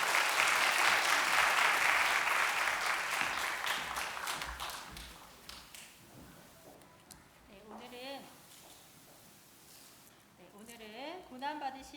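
A church congregation at a Sunday worship service gives loud applause to welcome the preacher, the clapping fading after about five seconds into quieter room noise and someone speaking.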